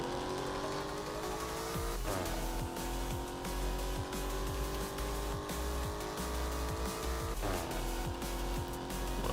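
A V8 car engine in Roblox accelerates steadily, its tone climbing through the gears, with two abrupt shifts that briefly drop the pitch before it rises again, loud and continuous with no talking.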